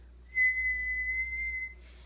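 A voice imitates a high-pitched tinnitus whistle with one steady, pure tone held for over a second, sounding close and alone against a quiet background.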